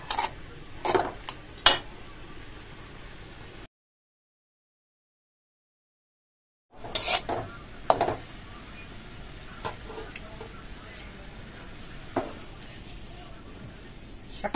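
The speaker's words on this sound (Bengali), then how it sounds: "এখন একটু তেলে বাগার দিব।" Spinach tempered in hot mustard oil in a home kitchen, with soft sizzling and a few sharp clinks and scrapes of a spatula stirring against the pan, broken by a silent gap midway.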